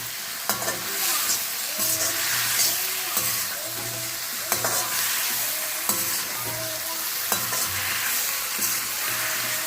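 Tomatoes simmering in oil with salt for a South Indian tomato gojju are stirred steadily, a constant bright sizzle broken by repeated scraping strokes of the spoon against the pan, close and clear with no talking.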